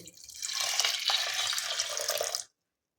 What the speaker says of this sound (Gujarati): હવે આપણે એમાં અડધો ગ્લાસ જેટલું પાણી ઉમેરીશું